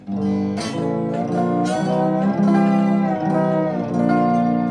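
A lap steel guitar plays a ringing major chord, sliding between positions in several smooth sustained strums with bright metallic overtones.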